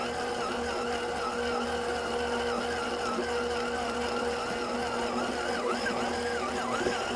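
A dough mixer works bread roll dough at a slow, steady speed, giving a continuous droning motor hum with a faint rhythmic whir, alone and unbroken.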